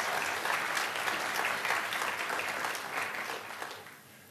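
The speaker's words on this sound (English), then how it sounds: "Yeah, you can clap." Audience applause after a live demo in a conference session, a steady dense wash of clapping that stays loud throughout and tapers slightly toward the end.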